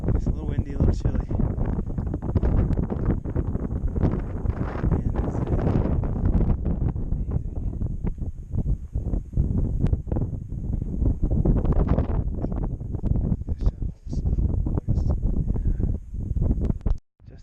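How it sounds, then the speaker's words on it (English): Strong wind buffets the microphone on a high Colorado mountain trail between Grays and Torreys peaks, a loud continuous roar with gusty surges and brief lulls, while a voice talks underneath. "It's a little windy, a little chilly."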